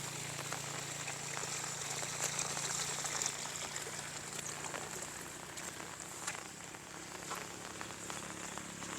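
Gentle drizzle falls across flooded rice fields in the Isan countryside of Thailand, a soft continuous patter with trickling water and a low steady hum underneath, no talking.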